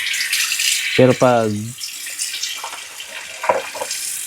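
Water pouring in a straight stream from the outlet of a HydroMagic three-stage water purifier, a hissing flow running under brief speech in Tagalog.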